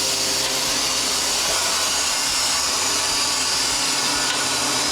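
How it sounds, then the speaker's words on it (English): Air rushes steadily out of the opened drain valve on a home freeze dryer, a loud, constant broadband hiss that holds unbroken from start to finish with no voices. "open the drain valve on Tilly, our wonderful freeze dryer."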